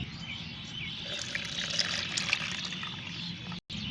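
Homemade fertilizer liquid of soaked onion peels and tea leaves is strained, pouring and trickling steadily through a strainer at close range, with a brief cutoff near the end.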